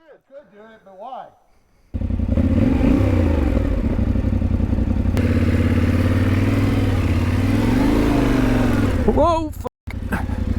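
A DRZ dirt bike engine drones loud and close on a single-track trail, holding a steady rumbling note for several seconds before cutting off, with brief voices before and after.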